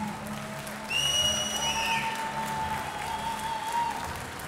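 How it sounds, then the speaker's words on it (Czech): A boxing crowd at Lucerna applauds both fighters after the bout, a moderate, steady clapping with crowd noise and some high whistles. "nejdříve potlesk pro oba dva protagonisty tohoto utkání"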